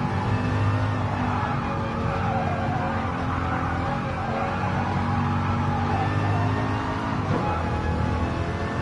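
A Ford Mark IV race car in Gran Turismo Sport holds a loud, continuous engine drone at a fairly steady pitch, with a slight shift near the end of the run.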